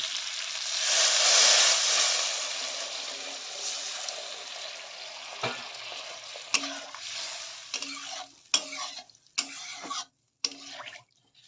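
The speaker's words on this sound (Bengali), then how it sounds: "হালকা ভাজা হয়ে গেছে বন্ধুরা, হালকা অর্ধেক অর্ধেক ভাজা হয়ে গেছে।" Helencha greens frying in a pan, a steady close sizzle with stirring that thins out into scattered scrapes and short clicks toward the end.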